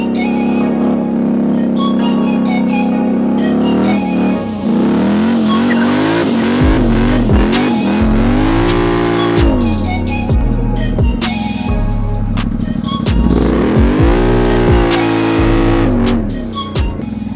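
A 2022 Polaris Sportsman HighLifter 850 ATV engine revs hard and loud close by, climbing through repeated throttle bursts with sharp rises and drops in pitch and the odd tire squeal, no voices.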